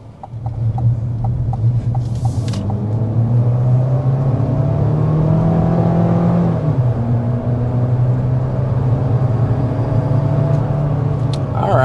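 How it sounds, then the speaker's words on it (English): A 2026 GMC Terrain Denali accelerates hard, its engine drone rising steadily in pitch, then dropping and settling into a steady cruise hum. Brief clicks are heard early on, with no talking. "But first, we need to start with a hard acceleration."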